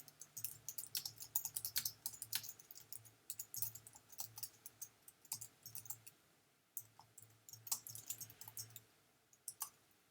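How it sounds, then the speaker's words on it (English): A command typed on a computer keyboard into a Maya MEL scripting line: quick bursts of close, quiet key clicks with short pauses between runs. "this is what I'll type in the mel scripting line now."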